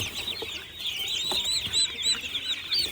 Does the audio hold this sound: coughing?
no